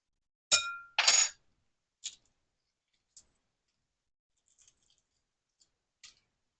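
Hard-boiled egg shell cracked and peeled by hand, with two sharp close crunches followed by sparse small ticks and crackles of shell fragments coming away in near silence.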